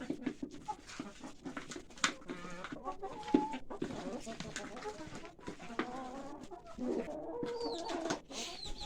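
Chickens cluck and squawk in a busy cluster, close by, at evening on a village farm, with scattered higher bird calls and some background noise throughout.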